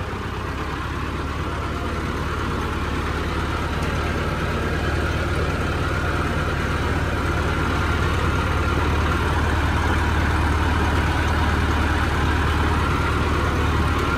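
A Massey Ferguson 385 tractor engine runs steadily at a constant deep rumble, loud and close, without pause or change in pace.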